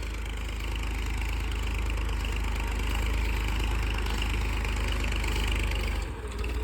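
A 35 hp 4x2 tractor engine running steadily while pulling a five-tine plough, a continuous loud low drone with even mechanical rumble and no talk, dipping briefly near the end.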